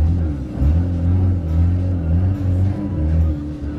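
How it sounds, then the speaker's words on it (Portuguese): A Peugeot 206 with a broken exhaust section idles with a deep, throaty rumble that pulses unevenly, loud and close, with no other sound over it. "Ficou turvão demais, moleque, o ronco."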